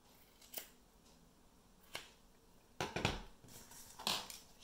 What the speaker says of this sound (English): I'm cutting quite a bit away here.